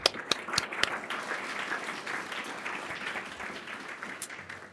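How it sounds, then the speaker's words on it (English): A moderate round of applause from a seated audience at a university family business leadership lecture, steady and somewhat distant, with a few sharper claps near the start. "Let's give her a round of applause."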